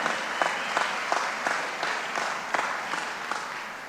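A crowd at a government event on SNAP and the food pyramid applauds loudly, with steady clapping broken by bursts of cheering. It sounds close and full, and no voice speaks over it.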